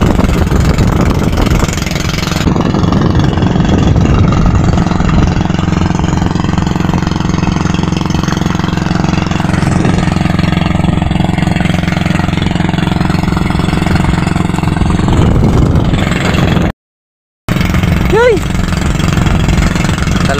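A boat engine on a squid-fishing trip runs loudly and continuously, a steady mid-pitched drone that cuts out briefly near the end before returning; the engine is failing.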